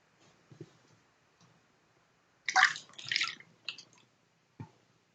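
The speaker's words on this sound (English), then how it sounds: "Then when they're done, I turn the water on." Water running into a bathtub being filled for a bath bomb soak: a quiet room, then about a second of close splashing gush midway, followed by a few short drips and clicks. No speech.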